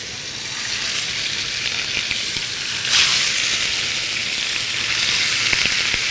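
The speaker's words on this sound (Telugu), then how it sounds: "సో ఇలా చక్కగా మ్యారినేట్ చేసుకున్న చికెన్ పీసెస్ ఏవైతే ఉన్నాయో నూనె బాగా కాగింది." Marinated chicken pieces with garlic paste frying in well-heated oil, a loud continuous hiss and crackle that holds steady and swells briefly, with no one speaking.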